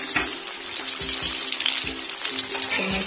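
Chopped onions and shallots sizzle steadily in hot oil in a pan, a continuous close crackle with regular scraping knocks from stirring.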